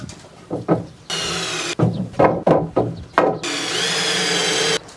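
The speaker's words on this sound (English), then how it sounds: "My drill just died." Two sustained bursts of a power drill whirring at high pitch into 2x4 lumber for a picnic table, separated by short knocks and scraping sounds of work on wood, close and loud.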